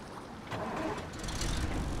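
A vehicle engine idles and revs in Expeditions: A MudRunner Game on the Arizona map, a low, muffled rumble that swells slightly partway through and then holds steady.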